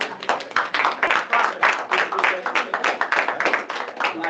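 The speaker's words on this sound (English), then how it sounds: "Round of applause." A small room of students at a student senate meeting claps in a short, lively burst, individual hand claps sharp and close with no talking over them.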